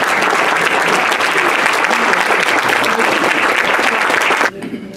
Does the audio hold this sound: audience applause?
yes